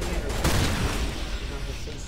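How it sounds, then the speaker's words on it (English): A loud, close shotgun blast in Mass Effect gives a sudden burst early on, then rumbles and decays under ongoing combat noise while a voice talks. "Because it's a shotgun and it spreads."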